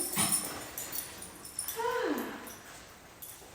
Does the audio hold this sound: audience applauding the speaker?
no